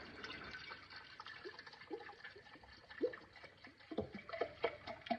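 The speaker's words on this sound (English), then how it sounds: "We're gonna put in 4 cups of white vinegar" White vinegar poured into a quart jar, a close burbling, trickling stream of liquid that grows louder and more gurgly as the jar fills, with short splashy glugs toward the end.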